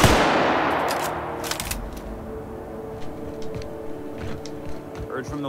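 Rapid gunfire from the player's weapon in The Outer Worlds, with a loud burst of sharp shots early on followed by scattered, quieter reports over a steady low background rumble.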